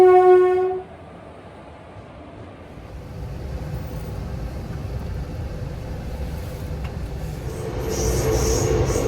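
A train pulling into a station on a winter morning, a horn blast at the start followed by a long, loud rumble of wheels and carriages building steadily.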